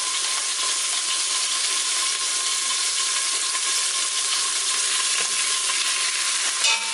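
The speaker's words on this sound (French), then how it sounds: "je vais essayer de remuer et de faire roussir un petit peu la farine" Beef for bourguignon dusted with a spoonful of flour sizzles steadily in a hot pan while being stirred, a continuous close frying hiss with faint scraping and no talking.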